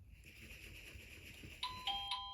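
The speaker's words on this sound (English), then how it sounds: "Oops, sorry, that's my doorbell." A home doorbell chimes faintly in a quiet room, with a short ringing ding-dong tone sounding twice near the end.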